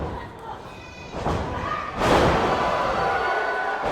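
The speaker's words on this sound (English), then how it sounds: "Just slams her down." A wrestler is slammed down onto the ring mat during a women's title match at a CCW Meltdown event in Nashville, a heavy thud rising over commentary and crowd noise.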